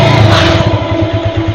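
Car engines rumble in a heavy traffic jam, a loud, steady, close drone with pulsing low revs, heard briefly without other sounds.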